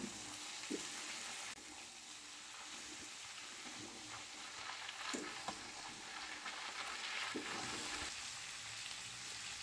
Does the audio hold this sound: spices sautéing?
yes